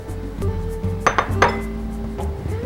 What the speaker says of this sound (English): Now I'm gently going to fold in 6 to 8 hard-boiled and